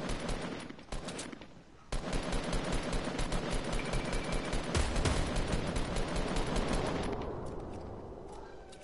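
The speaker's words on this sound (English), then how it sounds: "Oh, I'm getting shot at." Rapid automatic gunfire in a Fortnite match, with dense bursts of shots crackling almost continuously and loudly, then easing off toward the end.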